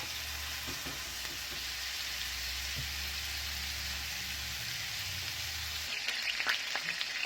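Burger patties fry in a hot pan with a steady, dense sizzle and crackle throughout, with a few brief scraping touches and a brighter burst of popping near the end; no voices.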